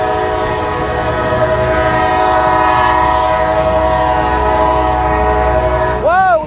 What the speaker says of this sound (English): Woo, loud train, man.